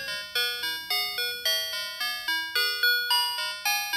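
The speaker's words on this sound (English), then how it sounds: "It's the Happy Birthday song." An E-Blox integrated-circuit music box beeps out the Happy Birthday tune in a steady series of bright, thin electronic tones, each note sharply struck and quickly fading, played alone.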